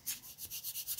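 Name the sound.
sanding wood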